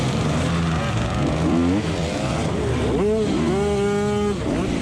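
Dirt bike engines rev and scream during a harescramble race on a muddy hill climb, rising and falling throttle blips layered over a steady engine drone, with faint voices underneath.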